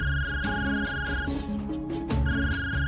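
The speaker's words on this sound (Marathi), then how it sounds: "कोणाचा फोन येतोय तुम्हाला इतका?" A mobile phone rings with a repeating electronic ringtone melody, bright tones in short bursts with a brief pause between phrases, loud and close, with no talk over it.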